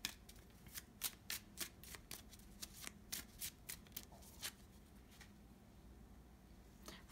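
Tarot cards are shuffled by hand in a quiet room, a run of about a dozen crisp riffling bursts in quick succession, then a soft pause with faint handling.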